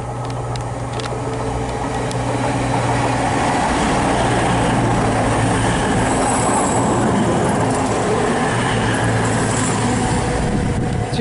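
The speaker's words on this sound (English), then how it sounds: "Passing through now is another cross country service." A cross-country passenger train from Penzance to Manchester Piccadilly passes through Parson Street station on the Great Western Main Line, a loud continuous roar of wheels and rail noise lasting throughout, close by.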